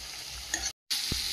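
Fried fish goes into a curry in a hot pan, and a steady close sizzle is broken by a brief moment of silence.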